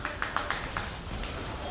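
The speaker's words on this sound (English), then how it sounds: "Very happy is the coaching staff. It's a lot of clapping." Coaching staff clapping after an esports team's League of Legends match win, a handful of sharp claps in quick succession, then fading under a busy background with speech.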